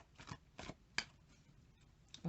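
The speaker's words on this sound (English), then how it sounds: "I'm doing an awful lot of shuffling" Tarot cards are shuffled in a few brisk, soft riffling bursts spaced apart, close and fairly quiet with no talking.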